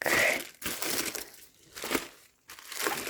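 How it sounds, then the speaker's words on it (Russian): Plastic bubble wrap packaging from a mailed parcel crinkles and crackles in several close, loud bursts separated by short pauses, handled alone with no talking. "Здесь у нас много такой пленочки пупыристой"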